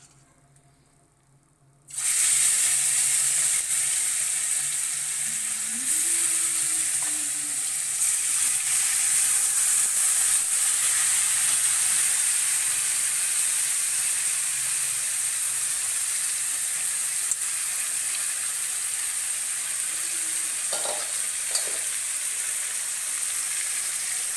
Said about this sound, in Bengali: তেল গরম হয়ে গেছে মাংস দেওয়া যাবে